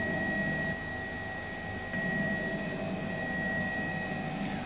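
An H135 helicopter engine under throttle in Microsoft Flight Simulator, a steady whining turbine with a constant high tone over a broad rumble, loud and unbroken, with no talk.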